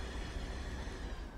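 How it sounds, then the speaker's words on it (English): Baby Bullet passenger train from Train Sim World 2 rounding a corner under low power, heard as a steady low rumble of wheels and rail noise with a broad wash of rolling hiss throughout. "view of this train as it's coming around this corner."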